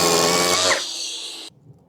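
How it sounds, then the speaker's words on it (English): Power drill boring into a wall to mount a garage tool organizer rail, a loud high whine for about three quarters of a second that drops in pitch as the bit bites, then stops abruptly. "drill,"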